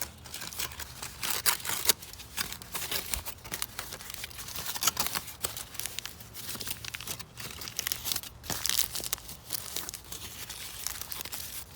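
Aluminum foil is folded and crumpled around a speedometer cable on a Hawk 250cc motorcycle, making a continuous dense crinkling and crackling that runs steadily for several seconds, close and fairly loud.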